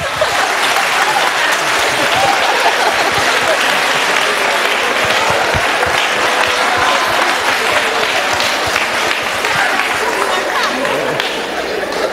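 Audience applause after a vendor presentation, sustained loud clapping from a crowd for about twelve seconds with cheering and chatter mixed in.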